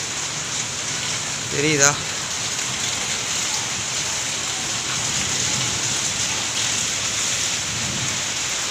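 Steady rain falls over an open cricket ground, a continuous hiss throughout, with a brief voice speaking near the start.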